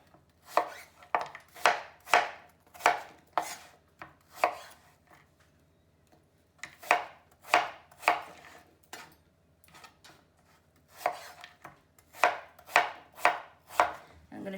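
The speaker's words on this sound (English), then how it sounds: "I'm going to chop all the rest." Apple quarters are sliced into roughly centimetre chunks with a knife on a cutting board: close, crisp chopping strokes fall in quick bursts of five or six, separated by short pauses.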